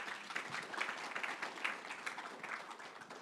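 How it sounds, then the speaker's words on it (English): Audience at a speakers' corner event at an Islamic knowledge retreat giving a round of applause, a fairly soft, continuous patter of many hands clapping that stays steady throughout, without talk. "Round of applause for Shaykh Farhan"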